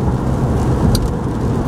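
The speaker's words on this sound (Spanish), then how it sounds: "Pero está lloviendo, no se ve bien en la cámara, pero está lloviendo." Steady rain drumming on a car from inside the cabin, a dense continuous wash with low road rumble beneath and one brief brighter patter near the middle, no talking.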